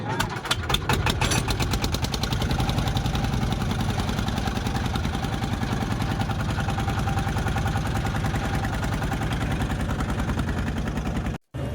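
An engine-powered river trawler boat with a full load of passengers starts up and runs, its loud, rapid diesel thump pounding steadily close by for the whole stretch before cutting out briefly at the end.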